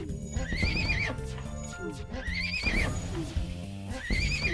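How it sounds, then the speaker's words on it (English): Horses neighing loudly in the video game FTL: Multiverse, three strong whinnies in a row, each rising and warbling, over a steady bed of game noise with faint clip-clop. "Man, those horses are loud."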